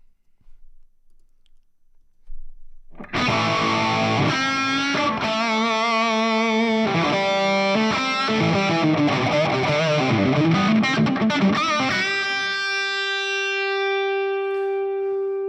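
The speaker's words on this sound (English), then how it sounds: "sound itself is already high gain sound" A guitar played through a heavily distorted, high-gain Fractal amp modeler: a burst of crunchy chords, then a sustained note ringing out with buzzing overtones, after soft clicks.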